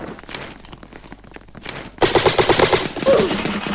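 Rapid automatic AK rifle fire in a Roblox airsoft battle game, a sudden loud burst of closely spaced shots that starts midway after quieter background sounds.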